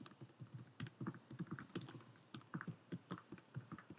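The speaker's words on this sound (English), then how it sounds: "So I'm going to type in their email address." Typing on a computer keyboard to enter an email address, a quick irregular run of soft key clicks heard close and alone, with a few louder taps standing out.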